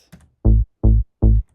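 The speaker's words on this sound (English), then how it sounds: "And the main bass line is only that." The main trance bass line on its own: three loud, evenly spaced synth bass notes with short decays, preceded by a faint brief scrape, with no voices.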